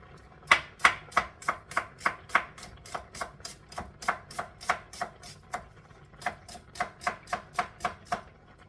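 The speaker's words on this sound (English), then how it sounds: "so cut my onion in half" Knife chopping through an onion on a cutting board while cooking Jamaican style, a steady series of about twenty-five sharp, close, fairly loud thuds in an even rhythm with no talking.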